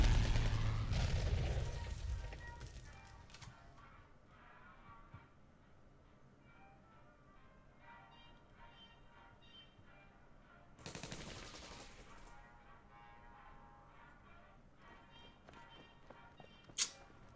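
Gunfire from the WWII card game KARDS, a loud burst of shots at the start, then quieter game effects and music, with another short rattling burst around the middle and a sharp crack near the end.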